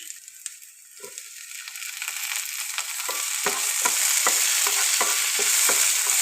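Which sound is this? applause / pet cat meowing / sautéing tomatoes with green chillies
sautéing tomatoes with green chillies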